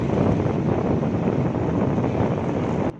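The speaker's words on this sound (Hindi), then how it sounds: "इस वक्त सिर्फ बाहर के हवा की तेज़ आंधी की आवाज़ आ रही है" Strong storm wind buffets the microphone outdoors, a loud, steady broadband roar that holds without a break for nearly the whole clip and then drops off sharply near the end.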